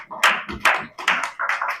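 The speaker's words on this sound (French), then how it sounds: "Acclamons pour le Seigneur" A church congregation claps together in a steady rhythm, with about four sharp, evenly spaced bursts of hand claps filling the space, and no speech over them.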